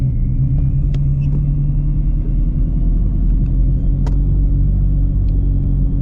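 A 700 hp supercharged Shelby GT350 on slick tires in the rain gives a deep, continuous engine rumble, loud and close from inside the car, with a few faint clicks and taps over the steady low tone.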